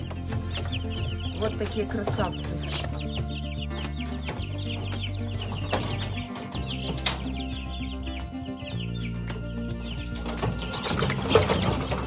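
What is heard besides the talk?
two-week-old chicks in a brooder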